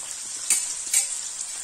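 Turkey slices fry in melted butter in a pan, giving a steady, bright, close sizzle with two brief louder crackles and no voices.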